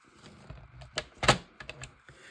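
Paper being cut for a handmade album, a series of crisp snips and short rustles with one louder cut near the middle, close and alone.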